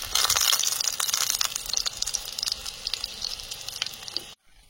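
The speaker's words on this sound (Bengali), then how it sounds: "খুন্তি টানছি খড়খড় আওয়াজ হচ্ছে" A spatula scrapes and stirs crispy pumpkin leaves frying in a pan, a loud crackling sizzle with rough scratchy strokes and crunching, continuous for about four seconds before stopping abruptly.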